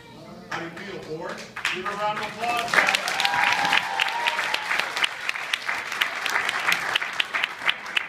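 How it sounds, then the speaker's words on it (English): An audience breaks into applause during a live magic act with an assistant on stage, the clapping swelling after a few seconds of talk and holding steady, with voices over it. "Round of applause."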